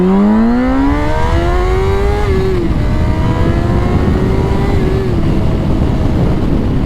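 A 2004 Honda CBR 600RR sport bike's engine revving loud and close, climbing to a high whine, holding, then dropping and revving again in strong sweeps, no voices.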